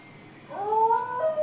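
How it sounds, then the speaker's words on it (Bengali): A puppy cries and howls, a single drawn-out whining howl that rises after a quiet start, wavers in pitch and carries on to the end, close and clear with no talking. "ওই যে দেখছো কুকুরটা কিভাবে কাঁদছে"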